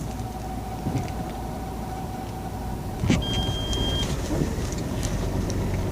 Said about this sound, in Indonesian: Aku udah agak curiga tuh bunyinya kayak begitu, kayak mobil balap begitu.